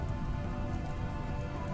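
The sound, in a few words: rain falling in video game RimWorld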